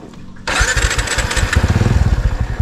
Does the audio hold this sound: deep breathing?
no